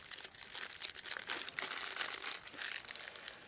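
Plastic Ziploc bag holding an owner's manual for an orbital sander crinkles and rustles continuously at close range, with irregular bursts of crackling and no talk.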